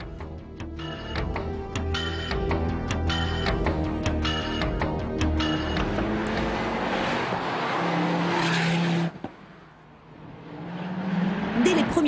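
A Ford Focus RS is driven hard, its engine revving up and down through gear changes with rising, falling pitch, loud and continuous, before easing off briefly and pulling again.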